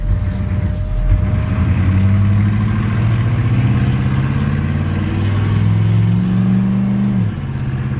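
A GMC truck accelerates with a steady engine drone that climbs in pitch, then drops sharply near the end as the transmission shifts gear, heard close and loud with no talking.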